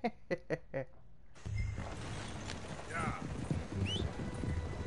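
In the video game Red Dead Redemption 2, a short burst of speech gives way to rhythmic horse hoof clops over a busy background with faint chirping.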